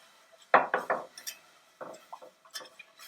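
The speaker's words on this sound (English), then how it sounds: "Time to add our milk all at once, stirring out the lumps." Milk stirred into a bechamel sauce in a pot for seafood pasta: a quick run of close, bright clinks and scrapes of the utensil against the pot, then a few softer taps.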